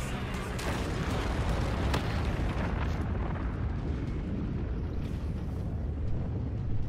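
A huge bomb explosion in Infinite Warfare multiplayer erupts in a loud, sustained roaring blast that fills the whole span and slowly thins out, with no talk over it.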